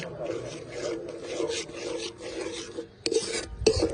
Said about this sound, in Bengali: টক দইটা দিয়ে ভালো করে মশলার সঙ্গে কষিয়ে নেব।